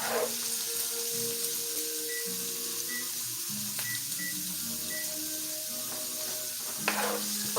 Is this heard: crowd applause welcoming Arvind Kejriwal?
no